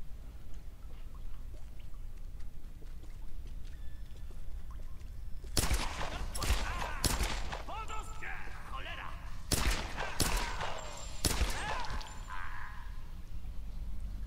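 Several sharp gunshots in the video game Tomb Raider crack out in clusters partway through, loud and close, over a low steady background hum.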